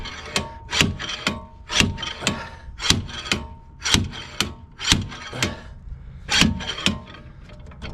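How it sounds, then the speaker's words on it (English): Repeated sharp metallic impacts from a lightweight slide hammer working to pull the drive axle on a 1996 Toyota Camry, about a dozen evenly spaced blows over several seconds, close and fairly loud with no talking. "I got this slide hammer out of the garbage"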